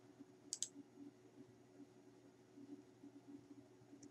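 Two quick computer mouse clicks land close together near the start, crisp and near, followed by a quiet room hum with no talking.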